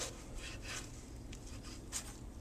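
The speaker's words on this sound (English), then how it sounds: "it's best to cut bread with a serrated knife" A serrated knife saws diagonally through a loaf of bread in quick, faint rasping strokes, repeated several times close by.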